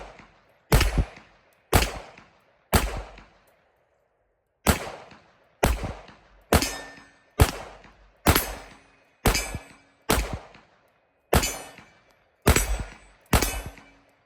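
Springfield Armory SA-35 pistol fired from a Mecgar magazine: thirteen sharp, loud gunshots, close by, in a steady slow rhythm with one longer pause near the start and no talk.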